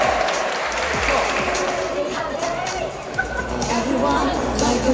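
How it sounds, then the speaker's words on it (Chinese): A crowd at a street dance performance claps steadily in a dense, continuous burst, with chatter and voices mixed in. "来来来，大家掌声鼓励。"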